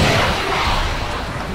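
A rocket launcher fires in the video game Desert Combat, a loud, rumbling whoosh and blast that sounds continuously and fills the whole clip, with no speech over it.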